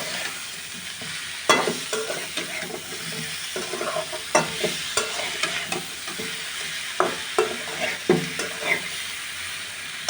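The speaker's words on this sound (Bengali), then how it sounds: "এবার আরেকবার মশলাটা আমি কষিয়ে নেব" Ground spices such as cumin and coriander powder frying and being stirred in a pan for an egg and cauliflower dish, with a steady close sizzle and repeated scraping strokes of a spatula, no voices.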